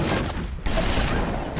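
Gunfire in the BioShock video game, a brief dense burst of shots that runs nearly continuously through the short stretch with a small dip midway, loud and up front with no talk over it.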